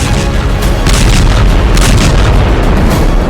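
Air strike explosions in Beirut form a loud, dense, continuous rumble of booms and blasts that roll into one another, heavy and sustained for the whole stretch, with no clear talking.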